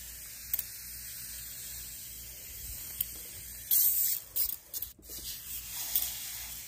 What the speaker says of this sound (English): Spray this down real good quick.